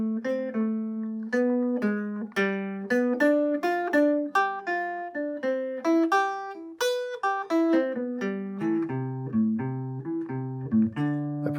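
Guitar plays a melodic 2-5-1 jazz lick through the chord changes, with an appoggiatura and a closing triplet ending on a sixth chord; clean single notes and chord tones ring steadily for about twelve seconds with no talking.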